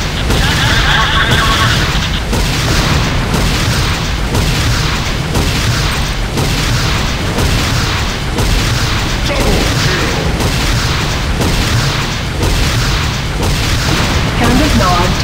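Explosions in the video game Renegade as Nod structures such as the Hand of Nod are destroyed: a loud, continuous barrage of booming blasts and gunfire, with a synthetic announcer voice speaking over the din.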